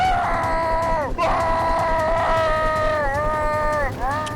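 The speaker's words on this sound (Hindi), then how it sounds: "एक बार जब वह जहरीले कुंड में उतरने लगा तो ग्रिमेस भयानक दर्द से चिल्लाने लगा।" Grimace, the monster in a Roblox horror story, lets out a loud, drawn-out wailing scream in pain, with repeated falling cries over several seconds.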